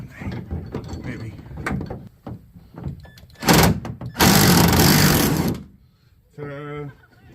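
A small impact wrench fitted with an adapter works on a truck tailgate, letting out short loud hammering bursts between quieter mechanical clatter, with a voice speaking nearby.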